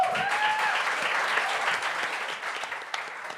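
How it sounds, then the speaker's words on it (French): Steady, dense audience applause from a crowd at a comedy show, sustained and fairly loud throughout, with a brief faint whistle-like tone near the start. "Qui, par applaudissement ici, a plus de 25 ans?"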